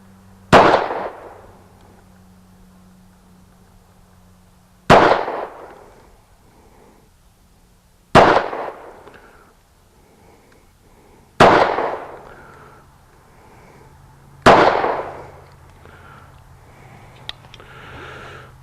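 A Ruger LC9 compact 9mm pistol fires five slow, evenly spaced shots at an outdoor range, each a sharp, loud crack with a brief decay, with quiet pauses of several seconds between rounds.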